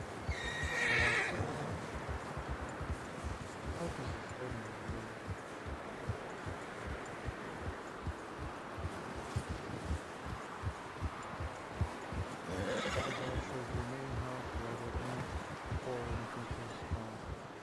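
Horse in the video game Red Dead Redemption II whinnies loudly near the start, with clip-clop hooves, rustling and wind running through the rest and a second fainter whinny later; some speech is mixed in.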